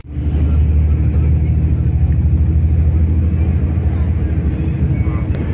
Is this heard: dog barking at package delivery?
no